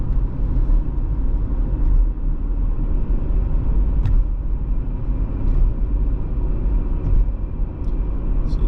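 A Chevrolet Equinox with the 1.5L Ecotec turbo engine, showing an underboost fault, driving uphill at constant throttle: a steady low engine and road rumble heard from inside the cabin, continuous, with a few faint clicks.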